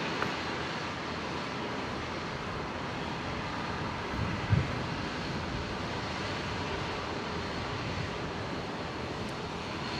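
Fiji Airways Boeing 737 MAX 8 taking off from runway 01 right at Brisbane Airport, a steady broadband jet engine roar heard from a distance, constant and unbroken throughout.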